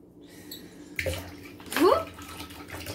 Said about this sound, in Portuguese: Agora a gente vai colocar um pouquinho de água.